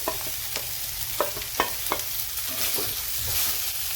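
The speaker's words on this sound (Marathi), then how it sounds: "हळद टाकल्यानंतर आपल्याला आता लगेच बटाट्याच्या ह्या फोडी टाकून घ्यायच्या" Potato pieces go into a hot pan with turmeric and spice paste and are stirred. The steady sizzle of frying is broken by repeated scraping and knocking of the spoon, close by, with no talking.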